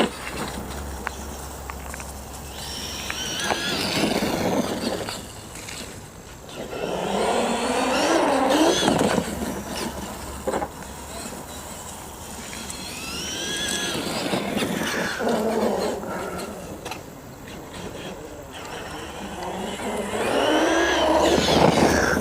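An RC truck drives and jumps a ramp, its electric motor whining and rising in bursts with tire scrabble on the ground, fading between passes and returning close and loud.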